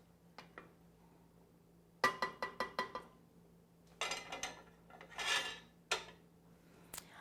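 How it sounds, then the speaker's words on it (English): A spoon stirs syrup in a pot over low heat, scraping and clinking against the pot in a quick burst of strokes and then slower rubbing passes, close and fairly quiet, with no talk. "I'm turning my syrup on low, and I'm going to give it a nice stir now."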